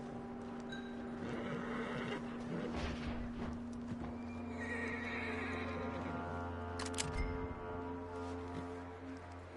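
A horse neighs in the video game Red Dead Redemption 2, a loud whinny with hoof clip-clop and shuffling nearby, then a second snort-like call against a steady low game hum.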